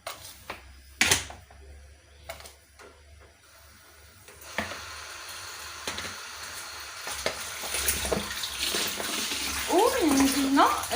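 Warm water running from a kitchen tap while preparing bread dough, a steady splashing flow that starts partway through and builds louder, with a few clinks and a voice speaking.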